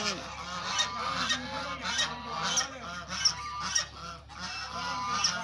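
Geese at a Muscovy duck farm honk repeatedly in overlapping, nearby calls, a busy flock sound with no talk over it.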